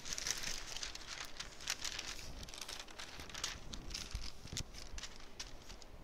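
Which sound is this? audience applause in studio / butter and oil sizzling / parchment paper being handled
parchment paper being handled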